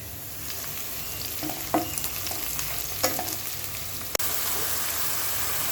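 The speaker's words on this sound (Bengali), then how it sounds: "হলুদের গুঁড়ো, মরিচের গুঁড়ো, ধনিয়ার গুঁড়ো, পেঁয়াজ বাটা, রসুন বাটা, জিরে বাটা সব দিয়ে মশলাটাকে ভালোভাবে কষিয়ে নেব।" Ground spice paste of turmeric, chilli, coriander, onion, garlic and cumin fries with cauliflower in a pan, a steady close sizzle with occasional stirring scrapes and clicks, then a louder, brighter sizzle after a sharp knock.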